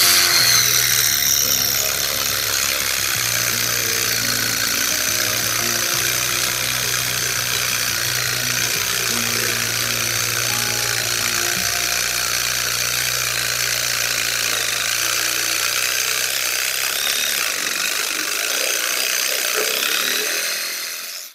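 A Parkside PAAS 12 B2 12V cordless garden saw runs continuously through wood for about twenty seconds, a loud steady buzzing whine with a grinding rasp, no voices.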